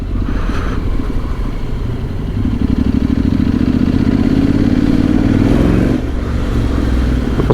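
Honda X-ADV 750 scooter engine running and revving while being ridden, a loud, steady throbbing drone that rises in pitch for a few seconds before dropping back, close and continuous.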